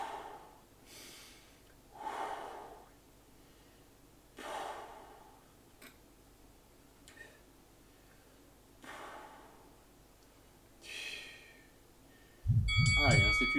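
Heavy breathing during a bodyweight upper-body workout, with strong exhalations rising and fading about every two seconds, close and fairly loud, and a thump near the end.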